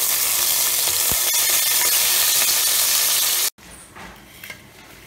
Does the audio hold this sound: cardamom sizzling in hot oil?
yes